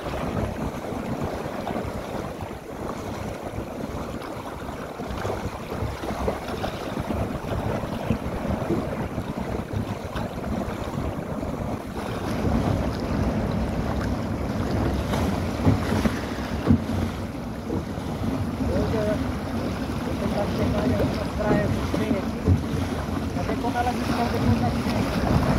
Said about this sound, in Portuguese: O vento ele está mais forte lá pelo meio da lagoa.